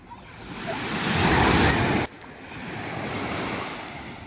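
Sea waves wash onto a beach in Spain, one surge swelling loudly and then cutting off before a softer rush follows, with wind buffeting the microphone.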